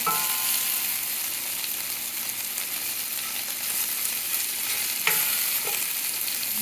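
Tofu fries in a pan with a continuous, bright sizzle of hot oil, with a couple of light clicks and taps near the end as the pieces are turned.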